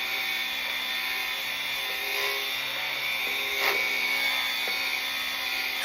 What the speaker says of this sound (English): I really love these Inox sanders